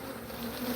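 Honeybees fly around a hive entrance, and their dense, continuous buzzing drones close by, swelling slightly as individual bees pass near.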